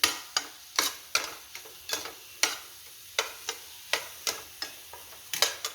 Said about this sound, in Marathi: त्यामध्ये आता ड्रायफ्रूटची भरड घालूया. ती थोडी परतून घ्यायची.